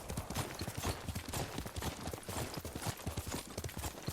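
Hooves of a horse clip-clop in the game Tale of Yuriko, a fast, steady galloping rhythm that is loud and continuous throughout.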